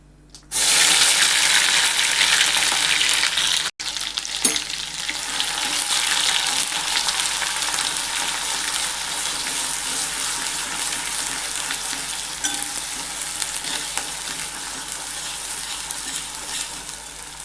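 A ground masala paste hitting the pan for a drumstick curry erupts in a loud, dense sizzle that dips briefly and carries on as a continuous crackling fry for many seconds.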